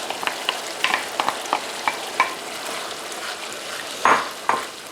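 Chicken sizzles steadily in sauce in a pan while a utensil scrapes and taps as it is stirred, with irregular clinks up close.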